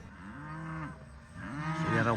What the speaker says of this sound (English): See that old black cow there far away? She just came running.